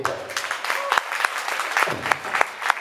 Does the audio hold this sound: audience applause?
yes